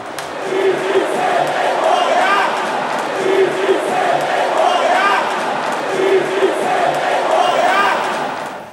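A crowd of home fans at a Sampaio football match in a stadium chants in rhythmic waves, a dense, continuous roar of voices rising and falling with distant shouts.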